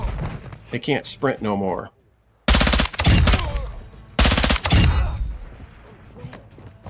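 Someone speaks briefly. Then come two loud bursts of rapid automatic fire with hollow point ammunition in Call of Duty Zombies, separated by a short pause and followed by quieter game noise.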